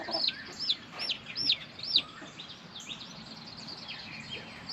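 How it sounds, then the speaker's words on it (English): Newly hatched chicks, just fluffed up, give high, thin peeps in quick repeated bursts close by, then fall to softer, scattered cheeps over a low background. "they fluffed up and turned into pretty little chicks."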